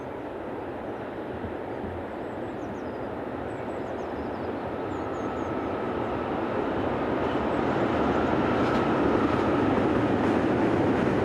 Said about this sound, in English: This is French electric number 36016 on an eastbound steel coils.